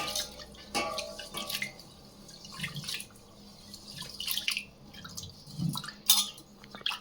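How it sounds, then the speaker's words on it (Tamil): Water splashing and trickling in a container with wet sloshing as broken grain is rinsed, steady and close, no talking. "தண்ணி ஊற்றி இதை கழுவி எடுத்துறேன்"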